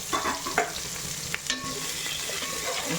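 Onions and green chillies go into browned cumin in a pan and sizzle steadily, with a few soft stirring scrapes over the constant frying hiss.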